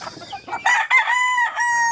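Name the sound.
chickens clucking and a rooster crowing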